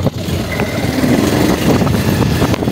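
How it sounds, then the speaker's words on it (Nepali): A motorbike rides along a muddy jungle off-road track, its engine droning steadily and close throughout with some rough revving, with no speech. "यस्तो हिलो माछ बाइकै तानिदिन्छ"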